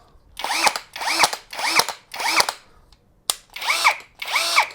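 A KAIDA 80-120 N·m cordless drill-driver, used to power a Motoshtorm 130 ice auger, whirs in six short bursts, each spinning up and winding down, loud and close with brief pauses between.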